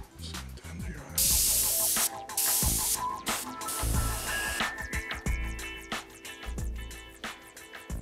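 Spray paint hisses in repeated short bursts around the eyes of a taxidermy mount. The bursts are loud and close, with brief pauses between them and small handling clatter.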